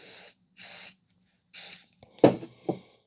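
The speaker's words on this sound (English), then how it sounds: "I'm going to apply some WD-40" WD-40 is sprayed onto a rag in three short, sharp hissing bursts, followed by a few soft knocks and handling sounds close by.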